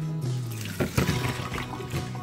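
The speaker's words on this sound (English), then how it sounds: "So all I do with the strawberries after they're finished is just pour them into a colander" Strawberries soaking in vinegar water are tipped into a colander, making a close, continuous rush and splash of draining liquid with a few louder gushes partway through.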